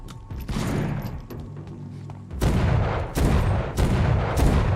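Video game gunfire roars as loud, dense bursts of shots and booms, with several heavy volleys close together and no talk over them.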